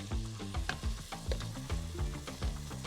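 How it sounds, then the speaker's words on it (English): Chopped onion and celery sautéing in a pan over medium-high heat, a close, steady sizzle broken by regular rhythmic scraping strokes of a utensil stirring the vegetables. "We're just gonna let this saute for about 5 minutes to soften up."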